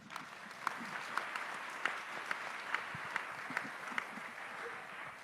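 A church congregation breaks into applause, a dense wash of clapping with a few sharper, regular claps cutting through at a steady beat, moderately loud throughout.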